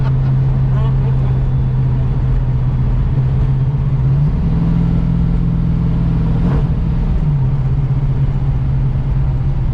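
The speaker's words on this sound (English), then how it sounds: "Did you hear it hit the rev limiter?" A 650hp 1971 Chevrolet Camaro split bumper V8 droning loudly and steadily up close, its pitch climbing briefly as it revs against the rev limiter, with people talking over it.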